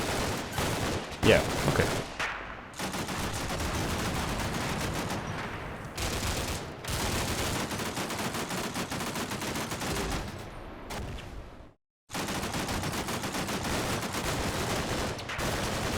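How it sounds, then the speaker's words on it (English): Dense small arms fire rattles almost continuously in the Cold War wargame Combat Mission, loud sustained bursts with brief pauses, while a voice briefly talks over it. "Not 30mm at all, just small arms fire."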